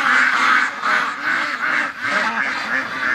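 A domestic duck quacks loudly and close by in a rapid, steady series of about eight nasal calls, heard alone without talk.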